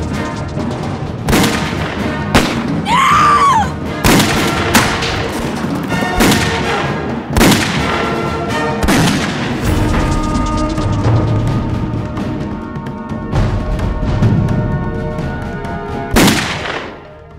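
Loud, sharp revolver shots ring out one at a time during shooting practice in an old western setting, a dozen or so spaced blasts with echoing tails over low ambient noise, with no speech.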